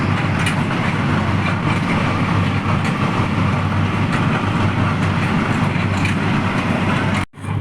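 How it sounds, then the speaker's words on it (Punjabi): A loud, steady rumble of a train rolling along the rails through a tunnel in Italy, continuous and close, cutting out abruptly for a moment near the end. "ਹੁਣ ਟ੍ਰੇਨ ਚੱਲ ਪਈ ਸੀ"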